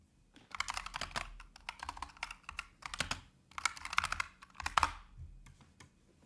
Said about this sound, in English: His keyboard is loud.